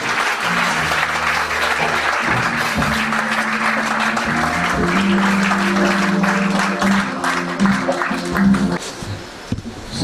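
A church congregation cheering and applauding: sustained dense clapping from a large crowd, loud and close, with shouts and voices mixed in and a swell near the end.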